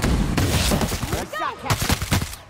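Gunfire in The Outer Worlds video game: a rapid burst of sharp shots, loud and close, mixed with game sound effects and talk.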